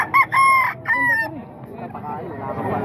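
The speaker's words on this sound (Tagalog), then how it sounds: "Mga manok ni Bus Chacha naman ito mga boss dito sa Bukawan." Roosters crow loudly and close by at a chicken seller's place in Bocaue, several drawn-out calls in quick sequence followed by softer clucking and murmuring from the fowl.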